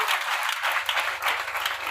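A church congregation applauds for Jesus during a sermon, with a sustained dense wash of many hands clapping throughout, moderately loud and filling the room.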